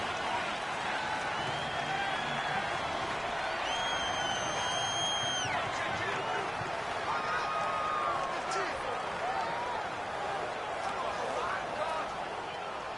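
Stadium crowd in the Madden NFL 19 video game, a continuous roar of home-field noise with scattered whistles and cheers rising and falling, mixed with commentary.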